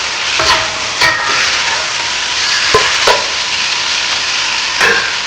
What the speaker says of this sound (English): So stir it up.